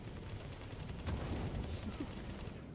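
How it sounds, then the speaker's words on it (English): Incendiary grenades going off in the video game The Division during a hard subway morgue mission, with dense crackling bursts and a louder surge midway, mixed with game gunfire and background talk. "Those incendiary grenades"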